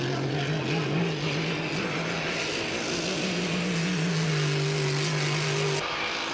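A race car at full throttle during time trials at the Valleyfield Grand Prix, its engine a steady, loud droning whine that holds constant for several seconds before cutting off abruptly near the end.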